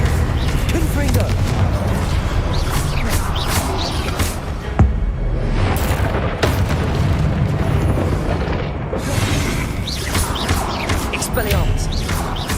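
Confringo blasting spell explosions in the Hogwarts Legacy video game: loud booming blasts and crashing impacts packed densely across a busy combat soundtrack, with a player's voice shouting over the action.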